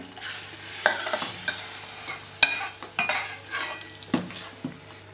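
Sizzling tempering stirred into boiling Gujarati kadhi, with a bright hiss of frying under repeated clanks and scrapes of a metal spoon against the pot, close and loud.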